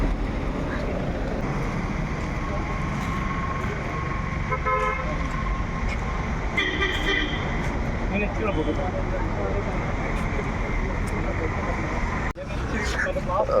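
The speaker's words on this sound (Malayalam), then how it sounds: "ചേട്ടനാണ് കേട്ടോ വണ്ടി എടുക്കുന്നത്." A new Ashok Leyland BS6 truck chassis drives off with a steady engine rumble and road noise, joined by a few short horn toots, and people talk nearby.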